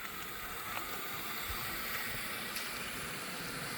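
Tap water runs steadily at close range, a continuous hissing, splashing stream with no break and no talk over it.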